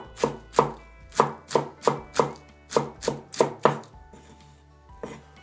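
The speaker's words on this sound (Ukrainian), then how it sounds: "Пекінську капусту нарізаємо не дрібно, так середніми шматочками." Knife chopping Chinese cabbage into medium pieces on a board, about a dozen crisp, evenly spaced strokes close up, then a short pause and one last cut.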